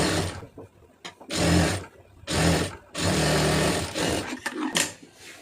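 A sewing machine stitches a hem on fabric in several loud, steady running bursts, each lasting under a second, separated by short pauses.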